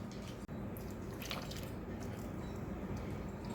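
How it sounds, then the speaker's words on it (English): Melted brown butter poured from a cup into a bowl of granulated and packed light brown sugar, giving a soft, steady wet squishing and dripping sound, close and fairly quiet, with no talking. "Pouring in the brown butter, and I'm going to scrape out all the brown particles at the bottom of my cup here and add that to it."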